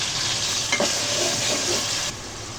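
Onions frying in a pan while beef curry is prepared give a strong, continuous hiss and sizzle, with a brief spatula scrape partway through before the sizzle eases slightly at the end.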